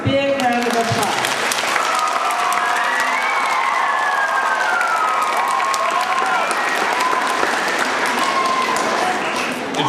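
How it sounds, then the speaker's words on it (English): A school audience applauding loudly for an award winner at a school event, dense continuous clapping with some cheering and children's shouts mixed in, voices audible throughout. "Let's give Eric a big round of applause."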